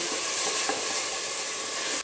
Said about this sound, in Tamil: இதையும் சேர்த்து ஒரு வதக்கு வதக்கிடுங்க